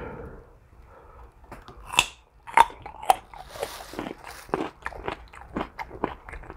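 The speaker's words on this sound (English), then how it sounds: "Let's try a carrot and some ranch." Crisp bites and crunching on a raw carrot dipped in ranch dressing, eaten at a Buffalo Wild Wings table, with a series of sharp close crunches followed by steady chewing, no talk.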